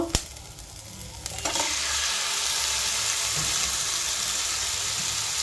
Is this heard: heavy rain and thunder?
no